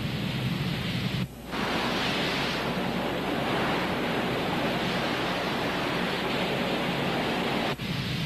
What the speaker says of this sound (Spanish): ¡El agua se está llevando todas las rocas!